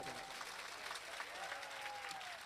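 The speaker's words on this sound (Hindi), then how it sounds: "अगर आनंद आ रही तो एक बार जोरदार ताली बजा दो" A crowd at a bhajan and comedy gathering claps together, a dense, fairly faint patter of applause that stays even for a couple of seconds while a tone carries over it.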